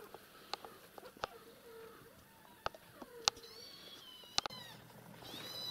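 Egyptian cats meow up close, several drawn-out rising and falling calls scattered among light clicks and taps in a quiet room.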